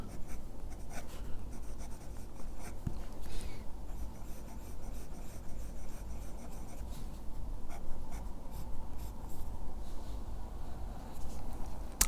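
A Jinhao 9056 fountain pen with a medium nib writes on paper, giving a continuous close, soft scratching and rubbing texture with small irregular strokes throughout, no voices.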